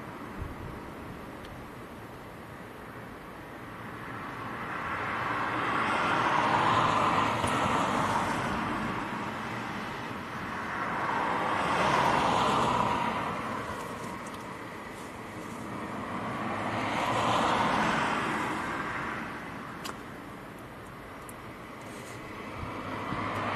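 An Aer Lingus airliner inbound from Dublin approaches to land at Leeds Bradford Airport in strong gusting wind, a broad roar swelling and fading in three slow waves over steady wind noise, with no talk.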